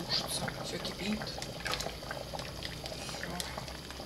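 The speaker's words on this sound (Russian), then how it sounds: "Варится. Все кипит." A pot of chicken boils on a stove with a soft, continuous bubbling and occasional pops, heard faintly in a home kitchen.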